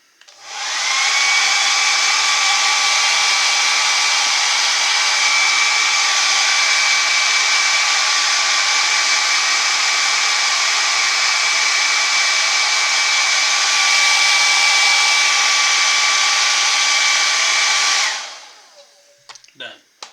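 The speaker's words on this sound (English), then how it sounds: "I've got a little hair dryer over here. I'm going to hit that for a few seconds to dry this out" A hair dryer blows steadily at close range for about eighteen seconds with a constant whine, then switches off and a few small handling sounds follow.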